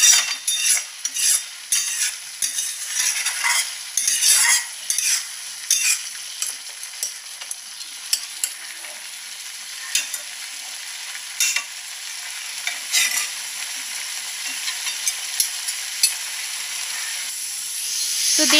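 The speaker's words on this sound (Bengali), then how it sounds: "বিটটাকে এরপরে আমরা লো হিটেই এইভাবে রান্না করতে থাকবো" Grated beetroot cooks slowly in a pan on low heat, giving a soft, steady sizzle and hiss. A utensil scrapes and taps it in irregular bursts, busier at first and sparser later.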